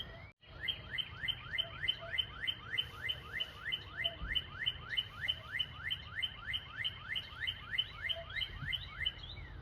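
A cardinal sings alone outdoors on a patio, giving a steady run of about two dozen evenly spaced, sharp down-slurred chirps, close and clear over a low background hum.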